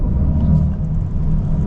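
2023 Mercedes-AMG EQE electric sedan accelerating hard, a deep, steady low rumble of road and motor noise with no engine note, heard briefly from inside the cabin.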